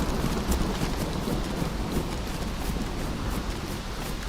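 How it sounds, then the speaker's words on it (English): Rain falling in the survival video game DayZ, a steady dense hiss with light pattering throughout, fairly close and even, with no talk. "I hear rain, I hear rain"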